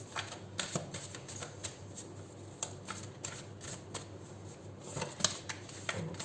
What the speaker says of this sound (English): we'll take after 3 shuffles, we'll take a couple of cards from the Monology deck as well.